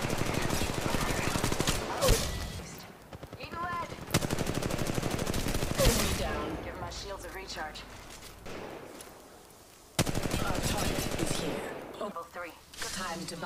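Rapid automatic gunfire in a squad-based battle royale shooter game, several loud sustained bursts separated by short pauses, with in-game voice callouts and talk in between.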